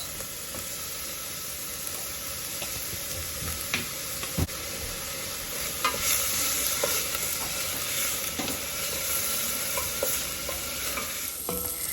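Onions frying in a pan with salt, a steady close sizzle under repeated scraping and stirring clicks of a utensil.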